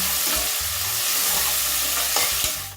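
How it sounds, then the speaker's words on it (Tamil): Onions sizzle steadily in hot oil, a dense crackling hiss with a spoon or spatula stirring and scraping the pan now and then. "நல்லா பொன்னிறமாக வதக்கணுங்களா"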